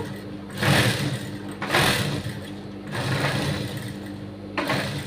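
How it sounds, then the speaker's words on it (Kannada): Sewing machine stitching a blouse lining, running in several bursts of steady whirring with brief pauses between them, close and clear with no talk. "ಆವಾಗ ಇಲ್ಲಿ ಒಂದು ಸ್ಟಿಚ್ ಹಾಕ್ಕೋಬೇಕು"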